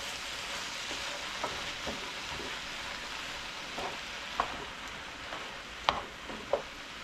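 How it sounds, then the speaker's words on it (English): Cabbage cooking down in a hot pan, giving a soft, steady sizzle and frying hiss with occasional light scrapes and taps of stirring, moderately faint and without any talking. "Now we need to cook down the cabbage a little more."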